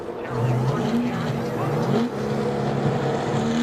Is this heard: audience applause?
no